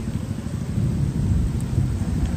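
Heavy, steady rain pours down in a storm over flooding Marikina, a dense roaring wash of drops with low rumbling beneath, loud and continuous with no voices.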